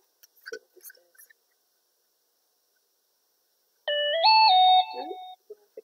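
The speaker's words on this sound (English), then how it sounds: "notification on my phone" A bright, multi-tone electronic chime rings out for about a second and a half after a short stretch of quiet, with faint talk at the start.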